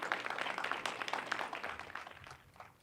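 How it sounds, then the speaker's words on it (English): Steady crowd applause, dense and fairly loud, gradually tapering toward the end. "Attorney Ty Karazi, please give them a round of applause."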